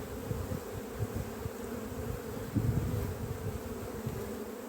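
Honeybees buzzing densely at an open hive while colonies are split into new swarms on the coast, a steady close hum with small swells and one louder rise midway.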